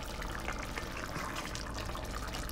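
One-pot pasta stirred in a pot gives a steady, wet sloshing and swishing of liquid, close and moderately quiet, with no talking.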